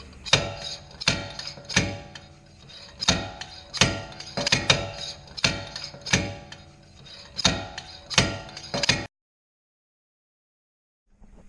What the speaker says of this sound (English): after beating and banging on it for about a half hour, John Marion finally got it